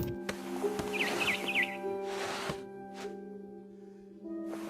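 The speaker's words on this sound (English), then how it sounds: "Then I heard chirping outside my window. It was a barn swallow going back to her nest." Barn swallow chirping in the video game What Remains of Edith Finch: a short run of bright, quick chirps near the start, sitting over steady low game ambience and music with a few soft thuds.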